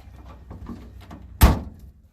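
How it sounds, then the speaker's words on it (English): The door of a Subaru 360 van shuts with a single sharp, solid slam, close and loud, following a moment of faint shuffling and quiet movement. "We're going to shut our door here"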